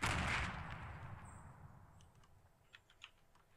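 Gunfire in the Fortnite: Battle Royale video game: one loud burst at the start fades into a quiet tail, followed by a few faint, distant pops.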